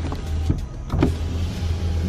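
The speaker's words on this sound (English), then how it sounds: "you got power sliding rear window." An electric motor whirs briefly as the power sliding rear window of a 2019 Chevrolet Silverado 1LT pickup moves, a close, steady hum with small clicks near the start and middle.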